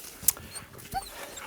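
A sled dog in a team of eight in northern Sweden whimpers and yips eagerly, a few short high cries over a quiet outdoor background with no talking.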